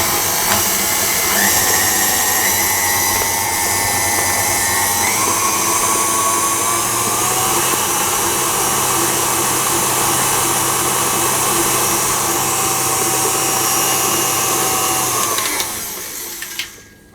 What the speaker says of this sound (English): I'm going to mix those until they're combined as well